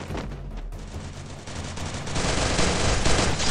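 Rapid automatic gunfire from the Free Fire video game, dense overlapping bursts that build louder and fill the last half, close and continuous with no talk.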